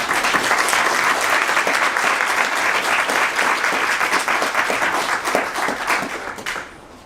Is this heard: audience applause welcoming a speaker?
yes